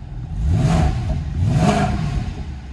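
A stock Mercedes CLK 63 AMG engine revved twice below 3000 rpm, two swelling rumbling blips rising and falling close by, with no talking.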